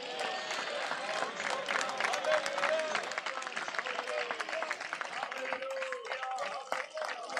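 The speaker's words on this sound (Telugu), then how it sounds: "మీరు నోటితో యేసయ్యకు స్తోత్రాలు, జయధ్వనులు చెల్లిస్తూ చప్పట్లు కొట్టండి ఒక్కసారి" A church congregation claps together in praise, a dense, steady patter of many hands with some voices mixed in. It sounds fairly distant and soft, holding evenly for several seconds.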